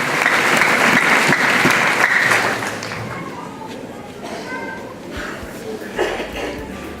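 Congregation applause at a church ordination service, sustained and fairly loud for the first two seconds and then fading into scattered claps and murmuring crowd noise.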